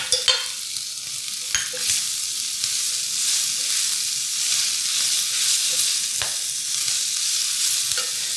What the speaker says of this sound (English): I have a little bit of garlic left. Let me throw that in here.